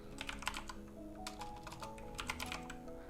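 HTML code being typed on a computer keyboard, quick close clicking bursts of keystrokes in uneven rhythm over a faint steady background hum, no talking.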